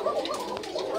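Red Koka pigeons in a coop give a short burst of low, throaty cooing up close, with one bird sitting on eggs.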